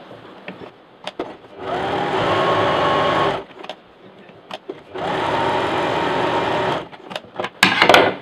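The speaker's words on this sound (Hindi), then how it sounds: "अब इन दोनों के किनारे सिल देंगे" A sewing machine stitches along the edges of two joined quilted fabric pieces for a double-zipper box pouch, running in two steady bursts of about one and a half seconds each, with short pauses and small handling clicks between them.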